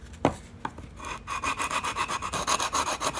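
Coarse 60 grit sandpaper rubs over wood to smooth away jigsaw blade marks, a close rhythmic scratching of quick repeated strokes after a couple of light knocks.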